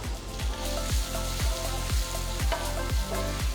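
Chopped sambar onions (shallots) sizzling in a hot pan for buttermilk rasam, a steady bright crackle with regular rhythmic low thumps about every half second, close and alone without talk.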